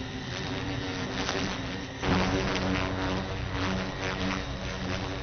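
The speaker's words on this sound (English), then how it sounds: "The sound of a hornet approaching sets off an extraordinary chain of events." A hornet approaching a colony of Japanese bees gives a steady insect buzz with fluctuating wingbeat tones that swell louder about halfway through, close and alone with no voices.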